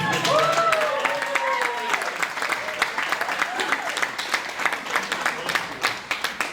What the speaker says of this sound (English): give me a round of applause to someone